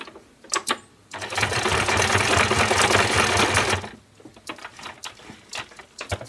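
A sewing machine stitches back and forth over acetate, a loud steady mechanical whir lasting a few seconds between short bursts of stitching and brief pauses.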